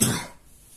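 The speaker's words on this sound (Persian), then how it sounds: "چرا سرفه میکنی؟" A single short, sharp cough, close and loud, fading quickly into quiet room background.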